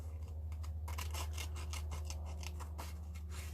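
Scissors snip and rasp steadily through paper, cutting a collage picture out of a book, with close, rhythmic blade strokes over a faint background hum.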